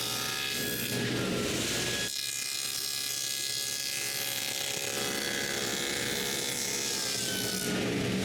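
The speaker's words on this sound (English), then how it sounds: "Then I'm able to cut a groove in the front of the sides." A table saw blade cuts a quarter-inch groove into the front of a wooden drawer side, giving a continuous loud whirring, rasping roar with a change in tone partway through as the cut proceeds, close up and without speech.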